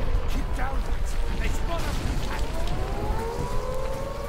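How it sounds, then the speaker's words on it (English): An air raid siren wails in Call of Duty: United Offensive, a Sicily special ops mission, its rising, drawn-out tone swelling over a dense, steady wash of rumbling background noise. "That sounds more like a Cartagena air raid siren"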